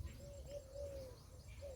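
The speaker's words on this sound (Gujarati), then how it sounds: "પક્ષીઓનો કલરવ સાંભળવા મળતું હશે" Birds calling in a village setting in the morning, with soft cooing notes that rise and fall over a low, quiet background hum, distant and faint, with no talking.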